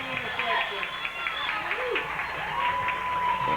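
A 1997 high school football crowd in the stands cheers and applauds after an interception return for a touchdown. The roar is broad and sustained beneath an announcer talking over it.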